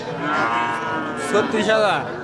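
A young heifer moos loudly and close at a crowded rural cattle market in Bangladesh, one long drawn-out lowing call stretching over the whole moment, with the murmur of the market behind.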